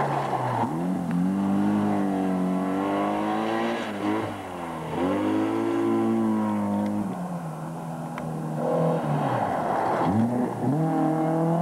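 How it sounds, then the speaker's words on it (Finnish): A Toyota Starlet rally car with a smaller engine revs hard during a 1998 rally, its engine note rising and falling through repeated gear changes, loud and close, with no talk. "oli liikkeellä pienemmällä moottorilla varustetulla starretilla"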